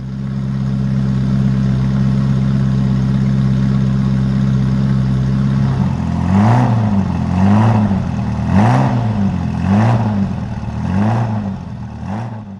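A Ferrari fitted with a Tubi exhaust holds a steady loud idle drone, then is blipped through a series of about six rhythmic revs that rise and fall close by, with no voices over it.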